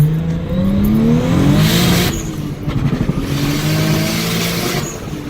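A Toyota MR2 fitted with a 2JZ engine drives hard, its engine loud and close as it revs up through gears with rising pitch, briefly drops off, then pulls again.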